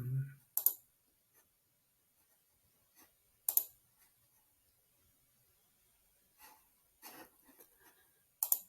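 Computer mouse clicks while selecting game highlights on a sports video site, sparse sharp single clicks spread over a quiet background, close and fairly faint.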